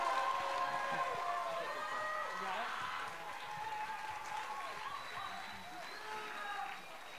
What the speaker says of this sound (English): Big round of applause for our students.